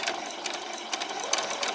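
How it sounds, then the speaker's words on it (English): A sewing machine runs a back stitch in a fast, even whirring chatter of needle strokes, close and steady with slight pulsing throughout. "And do a back stitch."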